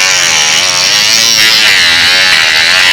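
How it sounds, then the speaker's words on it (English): A cordless Dremel rotary tool whines at high speed while cutting inside a Lancer Evolution X door during a speaker upgrade, a loud, close, steady buzz with slight wavering in pitch. "I thought it would be a good idea to have the cordless Dremel."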